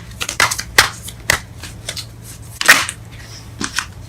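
A tarot deck is shuffled and cards drawn up close, with crisp riffling bursts and sharp snapping flicks at an uneven pace.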